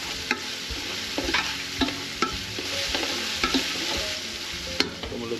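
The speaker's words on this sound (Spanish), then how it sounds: "Vamos a hacer un delicioso sofrito." Sofrito sizzles steadily in a pan while a spoon stirs it, with sharp scraping clicks and taps scattered over the continuous frying hiss.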